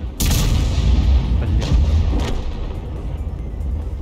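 A gunshot booms loudly at close range, followed by a second sharp report and a lingering low rumble, with a man muttering briefly afterward.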